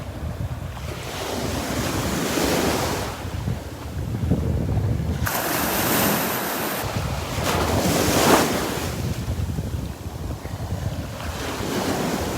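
Ocean waves roll and break on Vanderbilt Beach during a morning walk, with steady surf wash and heavy wind buffeting the microphone throughout, swelling in bursts.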